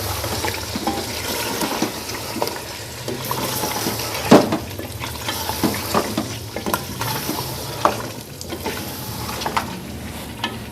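Goat trotters frying and being stirred in masala over high heat, a steady loud sizzle broken by repeated scraping and clattering stirs, with no talking.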